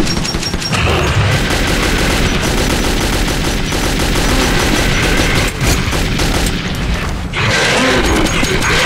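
Dense, loud gunfire from the post-apocalyptic shooter Metro 2033, with rapid machine-gun bursts and booming shots hammering almost nonstop, easing only briefly near the end.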